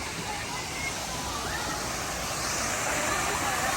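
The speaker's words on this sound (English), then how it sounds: "there's waterfalls everywhere" Waterfalls splash steadily around the pool at Hilton Hawaiian Village in Honolulu, a continuous broadband rush of falling water with no breaks, loud and close.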